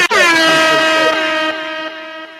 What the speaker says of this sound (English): drop them air horns for Mr. Miyagi in the chat.